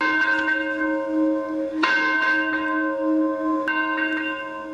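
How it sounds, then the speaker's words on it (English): A church bell rings on Christmas Eve, several resonant strikes with long ringing overtones that overlap and decay, loud and close with no talking. "Each time the bell rings on Christmas Eve, it sounds for love and hope."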